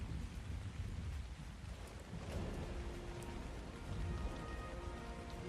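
Steady rain in the video game ARK: Survival Ascended, a dense, continuous hiss of falling drops with low rumbling underneath, holding even throughout without a break.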